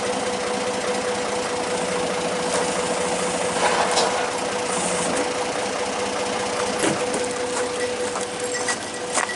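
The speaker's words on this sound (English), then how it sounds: "Now this machine's idling, just to give you an idea of how much power that a bigger machine has." Log-hauling machine idling at a sawmill setting with a Woodmizer LT15, a steady mechanical drone with light rapid ticking and a few faint knocks, continuous and moderately close.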